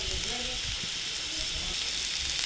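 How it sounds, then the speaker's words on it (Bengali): Rohu fish belly fritters fry in hot oil, a steady close sizzle and crackle with faint indistinct speech underneath. "দেখুন কিভাবে মাছের জুড়ি ভাজা হয়"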